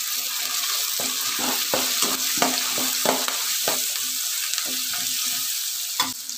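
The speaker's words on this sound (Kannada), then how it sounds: "ಮೀಡಿಯಂ ಉರಿಲೇ ಫ್ರೈ ಮಾಡ್ಕೊಳ್ಳಿ." Ginger-garlic paste fries on a medium flame with tomato, onion, green chilli, curry leaves, cumin, turmeric and asafoetida for beans chitranna, making a continuous loud sizzle broken by repeated spatula stirring strokes, with no voices.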